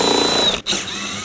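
A power tool whirs steadily as it removes 7mm bolts holding the mud guard and fender liner of a 2018–2024 Chevrolet Equinox. One brief drop in the whir breaks the sound before it resumes, close and alone.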